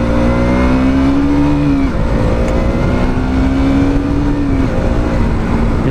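A KTM Duke 200 motorcycle engine revs hard toward redline while riding at a Mototown track: a loud, steady rising whine that drops at each gear change, then climbs again, with no talking.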